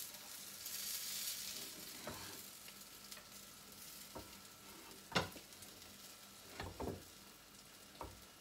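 A gluten-free keto pancake fries in a pan over lowered heat, giving a soft continuous sizzle with a few light scrapes and taps of a utensil.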